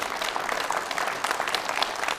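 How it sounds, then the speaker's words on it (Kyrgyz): Applause from a studio audience at a televised Kyrgyz talent show, a dense, steady wash of clapping that fills the whole stretch without a pause and no voices over it. "Кол чабуулар болсун"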